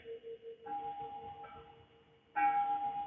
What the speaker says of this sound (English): That's the wind chimes that my family has had in the yard forever and ever and ever.